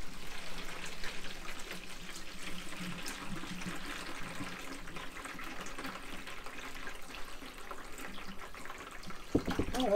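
Water drains steadily down a bathroom plug hole in a motorhome, a continuous rushing, gurgling wash that stays fairly even for the whole stretch, with a brief clunk near the end.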